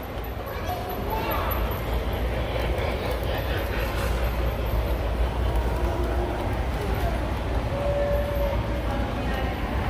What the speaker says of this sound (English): Here comes the train out of the tunnel and into another one.